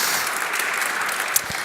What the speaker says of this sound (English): I think we can give them one more applause